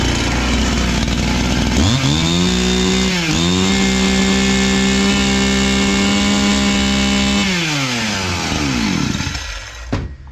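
A repaired Husqvarna 61 chainsaw idling, then revved up to a loud steady high-pitched whine for several seconds before easing back down to idle, close by.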